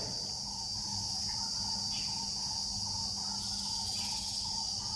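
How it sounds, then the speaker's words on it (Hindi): Outdoors, insects keep up a dense, continuous high buzzing and chirring with no pause, and faint bird chirps come now and then in the background. "जो भी हमें गुंजन सुनाई दे रही है, चिड़ियों की चहचहाट, उसे सुनने का प्रयास करें"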